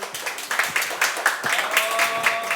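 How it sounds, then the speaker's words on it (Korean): A lecture audience at a Korean unification talk claps to welcome the speakers, an even patter of hands with a faint tone ringing over it. "큰 박수로 맞이해 주세요."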